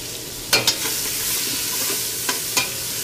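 Onions hit the hot pan that was just used to sear short ribs, giving a steady bright sizzle with a few sharp spoon scrapes and clinks against the pan, close and without talk.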